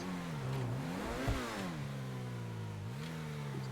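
Revving engine of the Överflöd Tyrant car in GTA Online, a close, throaty sweep climbing to a peak with a short crackle, then settling and dipping into a steady drone before another slight rise.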